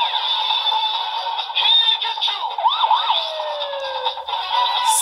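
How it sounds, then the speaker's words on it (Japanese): A Kamen Rider Gotchard transformation toy plays a firefighter-themed siren effect, a loud electronic wail that sweeps up and down repeatedly over a steady tone, with no other sounds. "ちゃんとサイレンの音なんかも入っていたね。"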